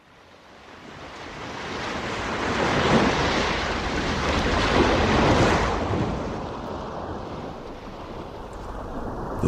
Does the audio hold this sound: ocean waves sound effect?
yes